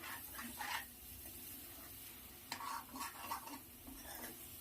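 A spoon stirs tomato egg curry in a pan, making soft scraping strokes over a faint sizzle. The sound is quiet and close, with a few louder bursts and no voices.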